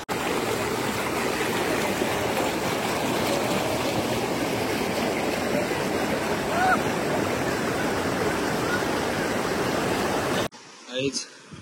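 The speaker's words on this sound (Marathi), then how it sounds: "पाणी खूप जोरात पडत आहे वरून" Dhodhadi Waterfall near Padghe, water pouring down hard in a steady, loud, unbroken roar that fills the scene, cutting off abruptly near the end.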